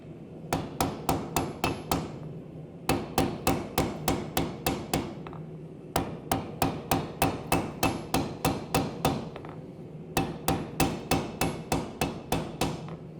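Bursts of rapid, ringing hammer blows on hot steel during multi-bar pattern welding, repeated in groups of about eight to ten strikes with short pauses between, close and loud.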